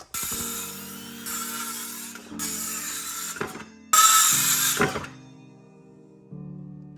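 A power saw whines through wood boards for a blanket ladder in several separate cuts, each burst loud and sustained, with brief pauses between them.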